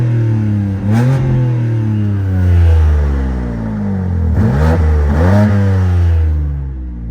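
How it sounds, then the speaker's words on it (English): BMW G82 M4 exhaust in comfort mode with valves closed, a loud, close engine note that rises and falls through several revs, deep and throaty but muted. "right now it is in comfort, valves closed, and this is what it sounds like"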